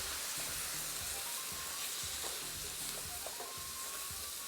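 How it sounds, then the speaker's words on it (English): Frozen mixed vegetables sizzle loudly in a hot pan for chicken fried rice. A utensil scrapes and stirs them in repeated strokes over a constant crackle, quite faint overall, with no talking. "Now I'm going in with my mixed veggies. Mix that together."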